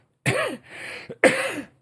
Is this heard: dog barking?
no